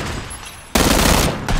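Gunfire from an enemy player in PUBG strikes the player's character, a dense loud burst of rapid shots breaking in after a quieter lead-in, then a second burst near the end.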